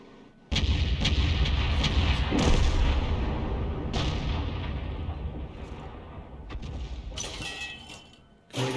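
Artillery fire in a video game: a sudden loud blast from an M44 or M12 artillery piece aimed at an enemy tank, then a long rumbling decay with scattered debris, and a second sharp crack near the end.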